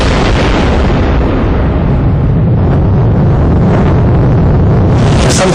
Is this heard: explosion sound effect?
yes